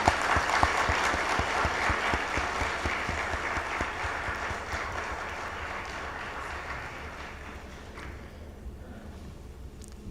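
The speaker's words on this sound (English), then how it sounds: "We can give the biggest round of applause for Mr." An audience claps for the President at a conference in Zanzibar on a green, resilient and inclusive future. The dense applause starts strong and slowly thins and fades toward the end.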